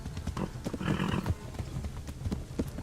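Rhythmic clip-clop of a horse galloping in the video game Kingdom Come: Deliverance, with a brief whinny partway through, moderately loud over a low background.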